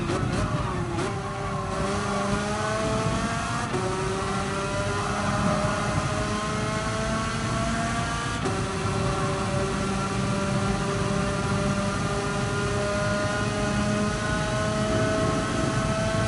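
A go-kart engine in a racing game drones steadily and loudly throughout, its pitch rising and falling with revs and gear changes, without pause.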